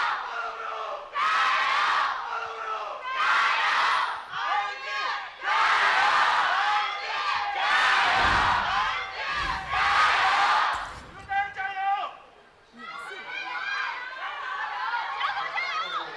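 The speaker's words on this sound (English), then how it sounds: "you can see the crowd is absolutely packed here for our match of the week" A packed esports arena crowd at an LPL Spring Split League of Legends match, Rogue Warriors versus Royal Never Give Up, roars and cheers in loud repeated surges, with a commentator's voice running through the noise.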